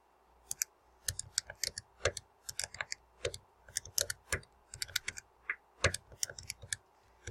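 Quick bursts of plastic calculator keys being pressed while entering statistics data, crisp close clicks in uneven clusters with short pauses between them, no voices.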